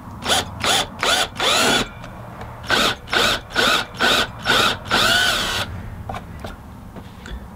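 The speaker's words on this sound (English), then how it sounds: "So now I'll drill the holes in the pick guard." A power drill bores holes through a guitar pickguard into the wood body beneath, in a series of short, loud whirring bursts with brief pauses between them, then a few faint clicks.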